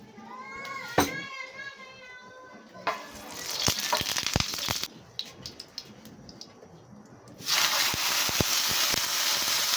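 Marinated tuna meat sizzles on a grill pan with a steady frying hiss that swells louder toward the end, while voices, including children, talk over it.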